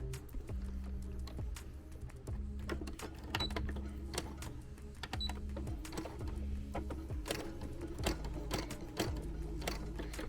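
A sewing machine stitches the seam of an Among Us plush toy in repeated bursts of rapid mechanical whirring, starting and stopping in short runs, close and steady.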